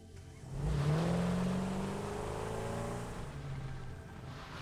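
A car engine in the factory-building video game Satisfactory rises in pitch as it accelerates, then holds a steady whirring drone before easing off, with no voices over it.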